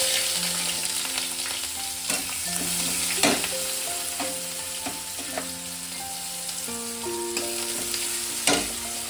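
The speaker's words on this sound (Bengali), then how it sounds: "পেঁয়াজ কুচিটা আমি মিনিট 2-3 ভালো করে একটু ভেজে নেব।" Chopped onion fries with cinnamon, cloves, cardamom and chili in hot oil. A steady close sizzle runs throughout, broken by occasional stirring knocks, with sustained tonal notes in the background.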